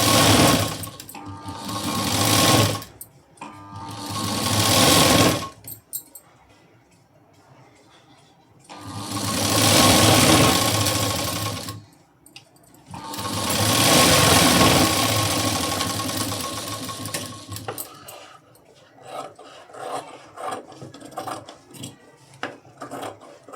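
A sewing machine stitching a work blouse sleeve runs in several long loud bursts separated by short pauses, with quieter handling noises toward the end.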